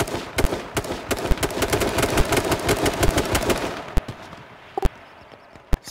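Rapid automatic gunfire rattles in dense bursts during an H1Z1 match, followed by a few sparse, isolated shots as the firing dies down.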